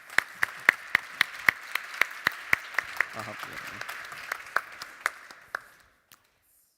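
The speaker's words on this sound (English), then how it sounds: "let's give a round of applause." A livestream conference audience applauds at the start of a debate, with a scattering of distinct claps over a steady wash of applause that fades out after about six seconds, a voice briefly speaking partway through.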